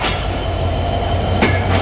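The Drutojan Express rolls into a station with a steady low rumble and wheel clatter, joined by a couple of sharp metallic clanks near the end, heard close and without speech.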